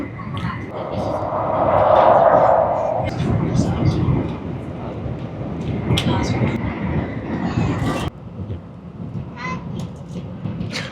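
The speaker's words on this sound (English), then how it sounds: "This train moves so fast." A fast-moving Japanese Shinkansen bullet train, heard from inside, fills the space with a steady rushing roar and rumble, with a brief whine early on and a sudden drop in noise near the end.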